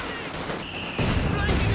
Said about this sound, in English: Mortar pit's just bombing out anything at the moment